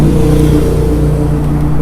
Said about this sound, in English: please forgive me for all the traffic noise today